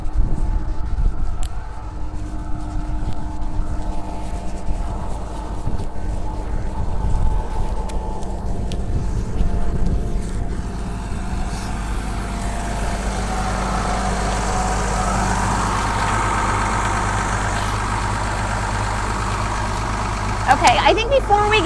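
A farm tractor engine runs during spring planting, a steady low diesel rumble that holds unbroken and fairly loud for the whole stretch, with a brief rise in clatter near the end.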